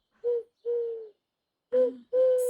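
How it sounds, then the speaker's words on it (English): A pet parrot gives four short, clear, hooting calls, spaced in two pairs with a pause between them, fairly close in an otherwise quiet room. "I just heard a parrot."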